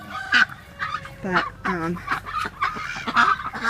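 Ducks calling from a backyard pen, a run of loud, close, honking quacks with a brief spoken word among them.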